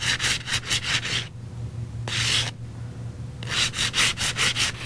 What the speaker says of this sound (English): I'm going to get rid of that with sandpaper